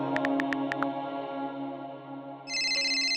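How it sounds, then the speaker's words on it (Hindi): A phone ringtone plays alone, a run of quick bright tones over a steady melodic line, then a brighter ringing chime near the end. "देखो आपकी मम्मा का फोन आया है"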